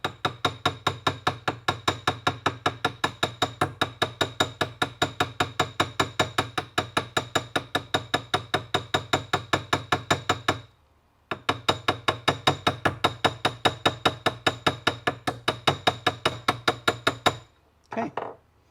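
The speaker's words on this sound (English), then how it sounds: "from where I'm hitting the rivet and when I'm hitting the metal, because the metal, again, is suspended off the anvil surface" A jeweller's hammer strikes a metal rivet on an anvil in fast, steady rhythmic blows, sharp and close. The blows break off briefly midway, run on, then end in a few final taps.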